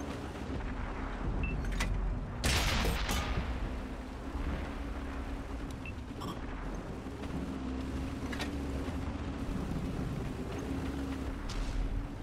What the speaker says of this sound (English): the artillery is still shooting at me